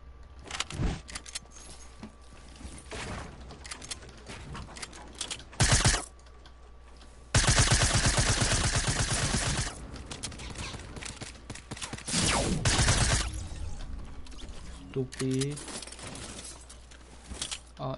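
Submachine gun fire in a video game, heard as bursts of rapid shots loud against a quieter background of clicking and movement, with a long sustained burst in the middle and several shorter ones before and after.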